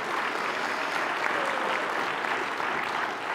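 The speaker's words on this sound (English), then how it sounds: "Give Him a hand clap of praise." A church congregation claps in praise during a sermon, a steady, dense wash of applause that stays even and fairly loud for the whole stretch, with no voices on top.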